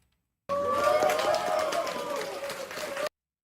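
A small club crowd cheers and applauds after a performance, a lively burst of shouts and clapping lasting about two and a half seconds before cutting off sharply.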